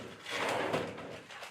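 A freezer drawer on a catamaran slides open or shut with a soft rumbling, scraping rush lasting about a second, fairly close and moderately loud, with no talking.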